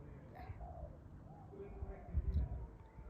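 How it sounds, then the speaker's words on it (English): A dove or pigeon gives soft, low cooing calls, faint and distant against quiet outdoor background noise. "It's a bird."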